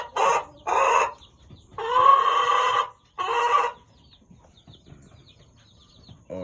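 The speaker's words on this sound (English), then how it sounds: "That white chicken right there." A white hen in a chicken farm coop gives loud, close clucks and squawks in several separate bursts, followed by quieter scattered clucking and rustling.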